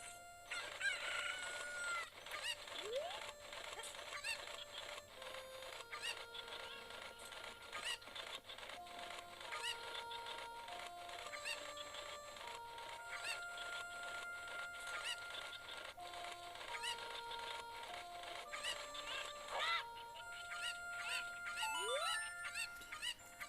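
Cucco chickens in the video game The Legend of Zelda: Ocarina of Time cluck and crow repeatedly over continuous game music, with squawks scattered throughout.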